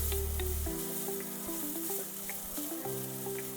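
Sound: carrots sautéing in a pan

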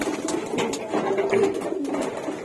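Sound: pigeons cooing before feeding

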